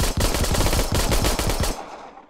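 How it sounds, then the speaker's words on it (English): Rapid close gunfire from the VR zombie shooter Arizona Sunshine, a dense burst of shots fired in quick succession that abruptly stops and trails off. "I gotta shoot to start. Shoot to continue. Okay, shoot."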